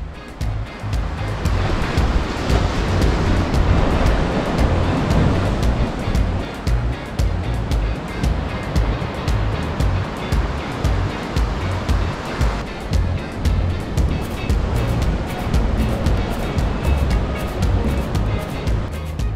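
Sea waves break steadily against the rocky cliffs at Jeongdongjin on the Simgok Sea Trail, a loud continuous surf roar with wind rushing over the microphone and no speech.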